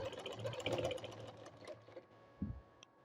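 A sewing machine stitches a zipper with an invisible stitch, a soft quick whirring run that fades into quiet, followed by a brief low thump.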